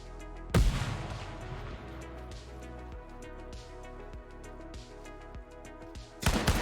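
In a shooter video game, a grenade explodes with a loud, close, booming blast. Sparse, quieter gunfire and game ambience follow, and a second heavy burst of noise comes near the end.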